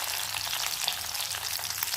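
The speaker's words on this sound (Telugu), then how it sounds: "ఈ మెత్తళ్ళు కూడా గోల్డ్ కలర్ వచ్చే వరకు వేయించుకోవాలండి." Small dried shrimp (mettallu) fry in oil on low heat toward golden, a continuous close crackling sizzle with rapid popping spatters and faint stirring, no voices.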